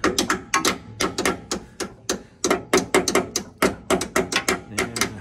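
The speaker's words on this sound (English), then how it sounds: "tap it in with a hammer" Sharp, rapid hammer taps on metal as a winch mounting piece is driven into a skid plate on a 2023 GMC Sierra AT4X, coming in quick bursts with short pauses between.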